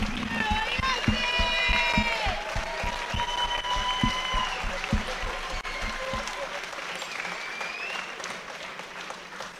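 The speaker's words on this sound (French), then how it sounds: "je voudrais qu'on les applaudisse très fort" Applause from a crowd at a combat sports event in Luxembourg claps steadily, with distinct hand claps standing out and whistles rising over it, gradually thinning out.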